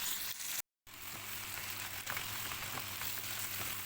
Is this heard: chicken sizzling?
yes